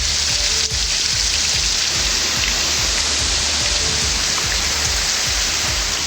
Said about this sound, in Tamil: அதேபோன்று தஞ்சாவூர் மாநகரில் கனமழை கொட்டி தீர்த்தது